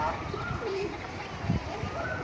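Pigeons or doves cooing near a Thai temple on a riverside, a few soft low coos over a busy ambient background of outdoor murmur.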